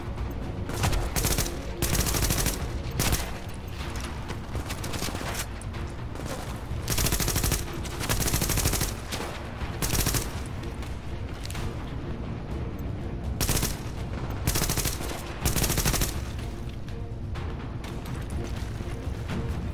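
Dense, continuous gunfire from the Tom Clancy's The Division video game, with rapid automatic bursts and loud shots overlapping steadily throughout.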